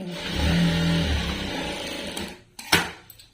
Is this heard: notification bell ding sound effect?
no